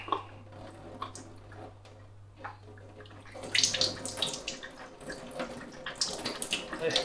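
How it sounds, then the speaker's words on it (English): Water trickles and splashes out of the carb valve of a Pinter home-brewing keg during sanitising, starting quietly and growing into a busier, close spattering flow in the second half. "push up with a bit of pressure, make sure some water comes out of here, the old carb valve"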